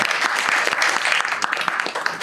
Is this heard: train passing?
no